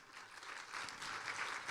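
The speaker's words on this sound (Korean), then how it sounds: "정말로 감사하다고 박수 한번 쳐주세요." A church congregation applauds during a Sunday worship service, with steady, dense clapping from a large crowd that swells slightly and carries on throughout, heard from a moderate distance.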